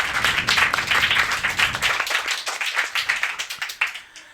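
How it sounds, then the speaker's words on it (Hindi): An audience claps for a contestant on a quiz show, with loud, crisp claps from several people that thin out partway through into scattered, separate claps. "अमित जी के लिए जोरदार तालियां और उनके लिए जोरदार तालियां"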